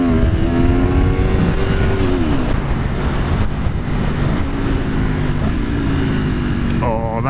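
A 2017 Aprilia Tuono/RSV4 engine revving hard under wind roar, with quick rising and falling blips as the auto-blipper downshifts, loud and continuous, plus a sharp rev at the end.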